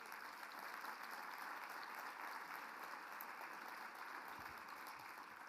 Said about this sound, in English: please join me a round of applause for them